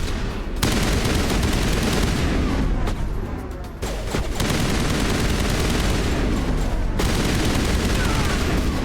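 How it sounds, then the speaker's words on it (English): Assault rifle fire from the video game Mass Effect, loud dense bursts of gunfire filling most of the stretch with brief gaps between volleys. "Let's get the would-be assault rifle out. So it seems that short control bursts are the way to go."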